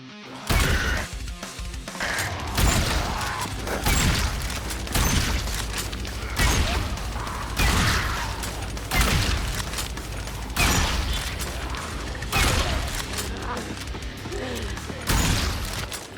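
Repeated heavy shotgun blasts from a game built in a custom engine, loud booming bursts roughly every second and a half with mechanical clacks between shots, alone without talk.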